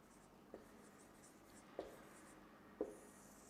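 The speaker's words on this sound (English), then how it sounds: "I will just write here" A pen or marker scratches softly across a writing surface in a quiet room, a faint continuous rubbing broken by three small taps, close and very low in level with no talking.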